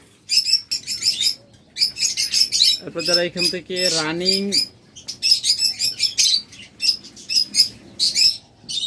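Budgerigars and lovebirds twitter in rapid, bright chirping bursts from close by, while someone speaks briefly partway through.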